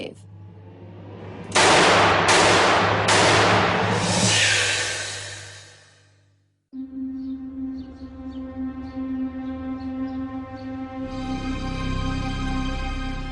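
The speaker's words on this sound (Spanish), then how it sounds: "un cuerpo es acribillado a balazos antes del amanecer." Three loud, sharp gunshot blasts in quick succession, each with a long ringing tail, followed by a droning, tonal musical backdrop.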